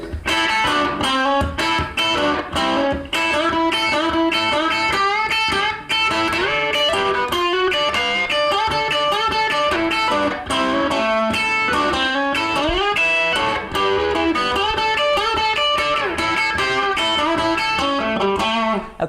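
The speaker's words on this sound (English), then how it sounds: "create your own solo, which will sound something like this." Electric guitar rips through a rock and roll solo, a long unbroken flurry of fast picked double-stops, bends and slides, bright and close throughout with no voices.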